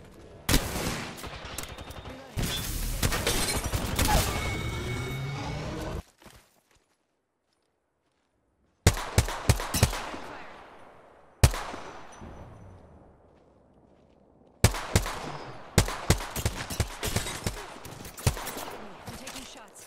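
Weapon fire in the battle game Apex Legends, bursts of rapid shots in dense volleys, then short single cracks and a sharp loud report, separated by a brief silent gap, with a player's voice faintly under the action.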